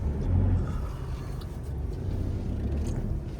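Steady low road rumble of a car in motion on a long road trip, a continuous engine and tyre drone with no voices.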